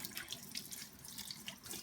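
Tap water runs steadily over a makeup brush being rinsed clean of soap, a soft continuous splashing stream at low level with no voices.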